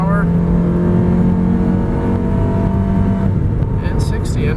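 A 1998 Honda Civic LX sedan accelerating hard on a test drive, its engine drone holding loud and steady throughout with rising harmonic tones, as heard from inside the cabin.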